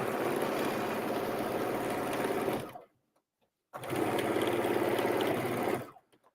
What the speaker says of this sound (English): start at the top, back stitch, 1/2 inch seam allowance